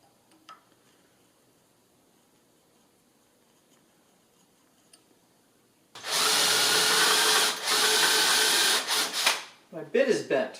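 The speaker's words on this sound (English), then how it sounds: "Now just have to mark the holes where I will drill" A power drill bores mounting holes for the intercooler on a 1976 Mazda RX-5 Cosmo. After about six seconds of near silence, a loud, steady drilling run starts, dips once briefly, then stops and gives way to a few short bursts.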